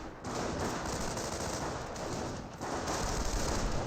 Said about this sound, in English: And this squad is receiving quite a bit of fire as well.